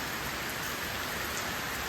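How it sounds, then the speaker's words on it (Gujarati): Steady rain pours down outdoors as a dense, even hiss with no pauses, close and fairly loud, with no voices. "વરસાદ તો ચાલુ છે"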